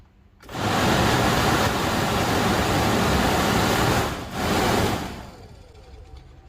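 A 2005 or later Chevy Aveo/Optra AC blower fan roars on high with the engine off, a steady broadband rush that dips briefly, surges again, then drops to a quieter hum.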